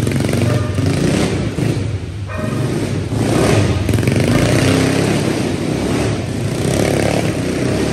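Motorcycle engine revving hard while being slid in a drift, a loud close roar rising and falling through several throttle blips and surges, with excited shouting in the background.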